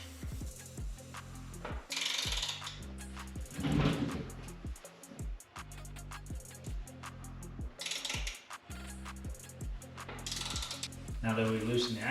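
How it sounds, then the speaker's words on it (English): Ratchet wrench loosening the rear axle nut on a Yamaha XSR700 motorcycle, repeated bursts of close, rapid clicking pawl strokes separated by short pauses, with faint rubbing and handling noises between. "Now that we've loosened the axle nut"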